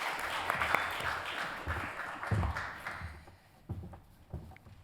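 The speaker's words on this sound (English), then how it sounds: "give her a warm applause" An audience at a talk on European cinema applauds a speaker, warm clapping that swells then thins out and fades into a few scattered claps and room noise.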